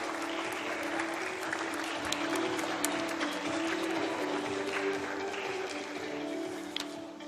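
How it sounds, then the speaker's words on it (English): Sustained applause from a large conference audience at an oral health keynote event, dense steady clapping filling the whole stretch at moderate loudness with a faint hum beneath. "Let's have a huge round of applause for our speakers right here."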